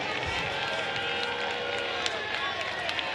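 A college baseball crowd at a Florida Gators vs. Clemson Tigers super regional game in Clemson roars as a batter comes to the plate, a loud, sustained wall of cheering with voices mixed in.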